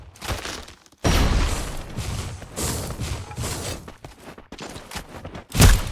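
Rapid bursts of gunfire in a battle royale video game tournament, with cracking volleys that come and go over several seconds and end in a sharp loud shot.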